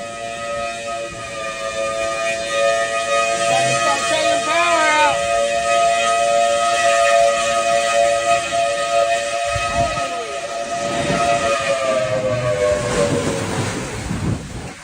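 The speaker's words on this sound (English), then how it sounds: "A person is filming outside while tornado sirens wail in the background." Tornado sirens wail outdoors as steady, rising and falling tones sustained over wind and background noise. Several voices speak over them.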